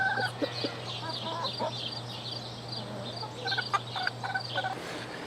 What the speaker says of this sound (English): Just fed the chickens for the evening.